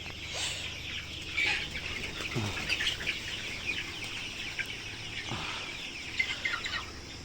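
A flock of month-old colour bat broiler chickens on a farm keeps up a continuous din of clucks and chirps, with a few louder nearby calls and brief wing flaps rising out of the crowd.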